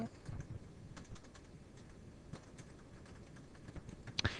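Light tapping on a computer keyboard while composing a reply post, scattered quiet keystrokes at close range over a low room hiss, with a couple of sharper clicks near the end.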